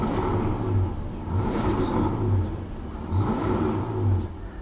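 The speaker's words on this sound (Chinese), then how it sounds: "我们来稍微试一下它的转速" A Ferrari 488 GTB engine revs repeatedly, rising and falling in several loud, close surges over a steady idle rumble.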